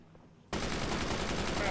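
Machine gun fire in the World War II shooter Brothers in Arms: after a half-second of near quiet, a loud, dense automatic burst erupts and roars on without pause to the end.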